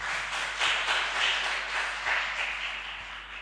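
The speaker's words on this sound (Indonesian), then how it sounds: "Tepuk tangan dong buat Kak Ibnu." Audience at a school literacy book discussion claps for the author, a light, steady patter of hands sustained throughout at moderate distance with no talk over it.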